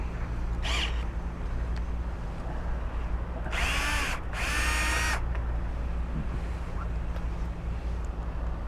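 Two short bursts of a power drill whir near the middle while removing the exhaust from a BMW F800GSA motorcycle, each about a second long, over steady low background hum.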